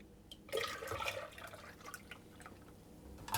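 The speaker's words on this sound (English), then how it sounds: "I'm going to pour that back into the saucepan" Liquid splashes and trickles into a pan for a few seconds, a soft, close pouring sound with small drips at the end.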